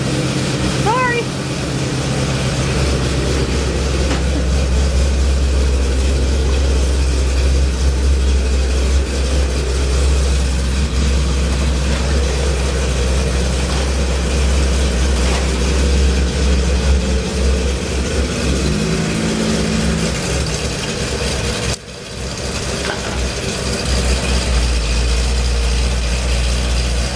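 A 1957 Chevy's engine rumbles steadily at idle, loud and close, with brief revs swelling through the running note, while people talk over it throughout.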